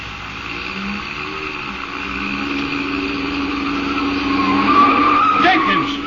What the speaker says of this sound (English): You turned that corner on 2 wheels.